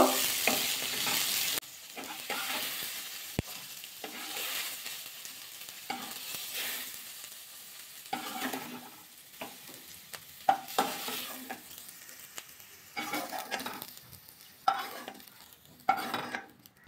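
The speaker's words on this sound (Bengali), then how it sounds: "ডিম গাজর ফুলকপিটা কিন্তু ভালো করে ভাজা হয়ে গেছে" Egg, carrot and cauliflower frying in oil in a kadai, a continuous close sizzle with rhythmic scraping stirs recurring throughout.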